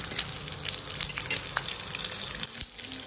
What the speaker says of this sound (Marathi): काजू टाकले, ते पण आपल्याला मस्त भाजून घ्यायचे आहेत आपल्याला